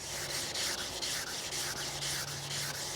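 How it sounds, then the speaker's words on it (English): Steady, rhythmic hand sanding of primer on motorcycle bodywork, a dry abrasive rubbing that pulses back and forth in even strokes, close and fairly loud, with no voices. "give it a good sanding all the way around just to kind of level out the primer"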